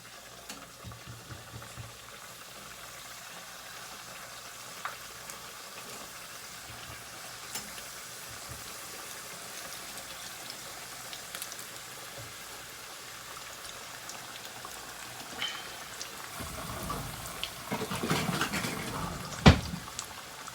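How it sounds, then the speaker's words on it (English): Half a dozen egg rolls frying in a pot of hot oil, a steady soft sizzle and bubbling throughout, swelling louder and busier near the end as more rolls go in. "We're ready to start the frying process."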